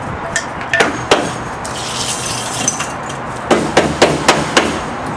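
Bricks beneath a balcony partition panel being hammered out, sharp loud metallic strikes close by, a few scattered blows early, then a quicker burst of four or five hits near the end over light background noise.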